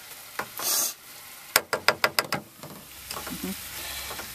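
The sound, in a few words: pulled pork and sauerkraut simmering in a pot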